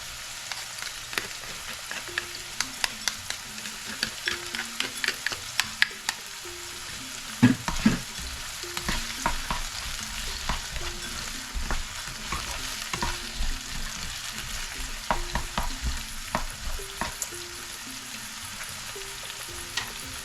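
Garlic sizzles and fries in a pan for Keshi Yena while a utensil scrapes and stirs, giving a steady close crackle broken by irregular clinks and taps, with no voices.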